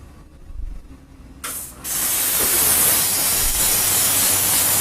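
A steam spotting gun blasts a steady, loud hiss of steam to flush chemistry out of a stain in fabric, starting after a short quieter stretch and running on continuously to the end.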